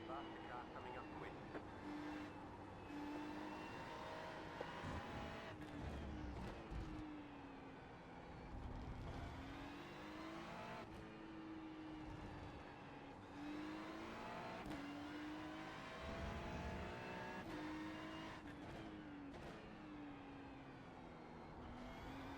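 A faster race car in a multiclass IMSA sim race at Interlagos closes in on a Ferrari GT3, engine notes rising and falling through gear changes beneath the driver's own car, fairly faint overall.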